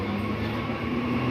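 A train passes on the railway at Khardaha, a steady loud rumbling roar of rolling wagons with a faint tonal hum, no voices.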